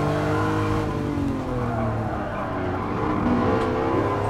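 Racing car engine held in third gear in Gran Turismo Sport, Ferrari flat-12 or Lamborghini V12, a loud steady drone with shifting pitch that runs unbroken throughout.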